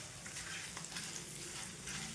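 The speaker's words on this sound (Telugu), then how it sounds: "ఇవన్నీ కూడా మంచిగా వేగాలి, మంచి చిటపట్లు ఆడేంత వరకు వేయించుకోవాలండి ఈ పోపు దినుసులు మొత్తం కూడా." Tempering spices frying in hot oil for an onion chutney, a soft, steady sizzle with faint crackles, quiet and close, no voices.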